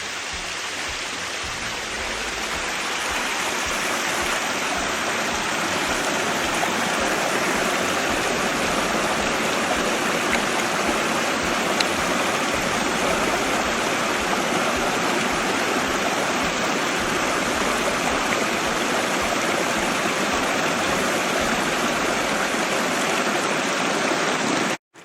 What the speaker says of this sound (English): All this water right here is coming out of that coal drift mine.